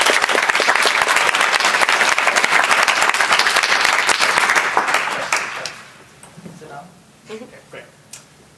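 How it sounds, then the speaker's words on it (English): An audience at a TEDx event applauds a speaker with dense, sustained clapping for about five seconds, then the sound thins to a few scattered claps and a quieter room. "Please give him a round of applause."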